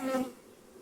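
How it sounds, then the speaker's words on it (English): Honeybees swarm thickly over a hive frame, a brief, close buzzing hum that swells for a moment and then quickly fades away. "this many bees on a frame"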